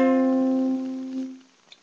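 A single guitar note or chord is plucked for the opening of the song and left to ring, its rich harmonic tone sustaining clearly and then fading out alone.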